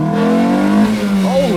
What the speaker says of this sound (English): That's what your car sounded like for the whole road trip?